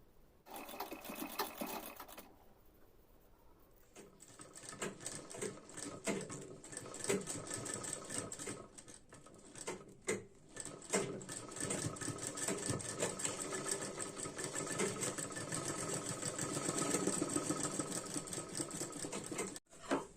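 A sewing machine stitching a blouse neck with a potli button runs in a long continuous stretch after a brief opening burst and pause, close and steady with rattling mechanical texture.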